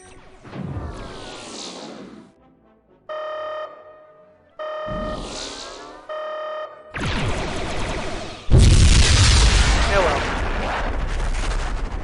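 Bombing the planet Aldebaran in the space combat game Netrek: repeated synthetic falling whistles and beeping tones, then sustained loud noisy blasts of explosions that grow heavier toward the end, with no speech.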